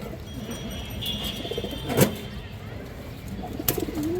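Pigeons at a pigeon market, with a soft low coo or two rising over a steady crowd murmur and occasional sharper bird calls, fairly distant and faint.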